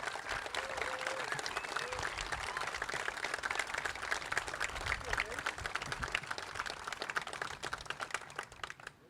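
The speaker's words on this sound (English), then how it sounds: "Please join me in another round of applause for all of our second lieutenants and ensigns." An audience applauds newly commissioned second lieutenants and ensigns at a Naval ROTC commissioning ceremony, a long round of crisp, uneven clapping with some voices mixed in, gradually thinning toward the end.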